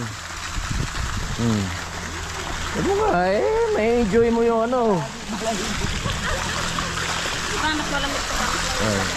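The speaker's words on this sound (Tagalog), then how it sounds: "Kaya dito na lang uli kami magtatampisaw sa sa swimming pool." People splash and wade in swimming pool water, a steady wash of water noise running throughout while several voices talk and exclaim over it.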